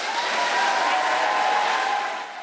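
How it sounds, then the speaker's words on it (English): A large crowd of Labour members in Gateshead applauds and cheers in a dense, sustained roar of clapping that fades slightly at the end, with a voice speaking over it. "And it was soon clear who this crowd would be cheering for."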